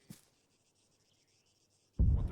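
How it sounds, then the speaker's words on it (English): BTR armored vehicle blown up by air assets in a military video game: near silence with a faint hum, then a loud, low, rumbling explosion bursts in and carries on to the end. "That was the sound of the BTR being destroyed by air assets."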